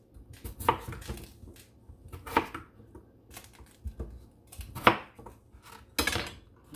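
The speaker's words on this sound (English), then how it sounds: "let me finish chopping up these last two potatoes" Potatoes being chopped with a knife on a board in a home kitchen, a few sharp, separate cuts spaced about a second or two apart, close and moderately loud with quiet gaps between.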